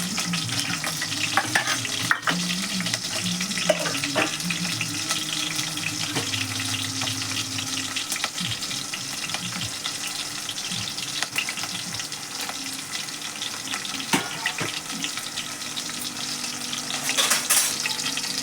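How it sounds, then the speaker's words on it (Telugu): Onions sizzle in a pan while a spoon scrapes and stirs them now and then, a continuous close-up frying noise with no talking. "దానిలో ఉల్లిగడ్డ వేసుకోవాలి. అది ఎర్రగా వేగే లెక్క చూసుకోవాలి."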